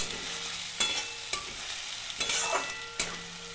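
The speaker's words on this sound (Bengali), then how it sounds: "মশলাটা কষে নিচ্ছি।" Ground spice paste sizzles and is stirred in a hot pan, continuous frying hiss broken by several sharp scraping strokes of a spatula, close and fairly loud.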